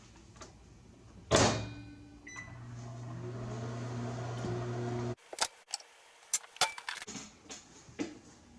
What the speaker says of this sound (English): Warm the milk in the microwave for 1 minute.